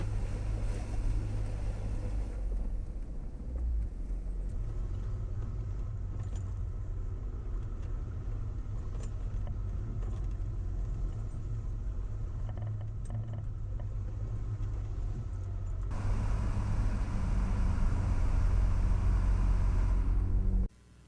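Jeep driving along a muddy off-road trail, a continuous low engine rumble and drivetrain drone with road noise and occasional knocks, steady for the whole stretch and rising slightly near the end, with no talking.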